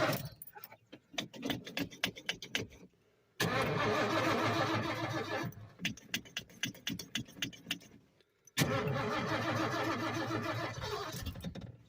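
A car engine cranking repeatedly on a cold morning, with rhythmic starter whirring in bursts separated by pauses, then catching and running steadily near the microphone, with no talking.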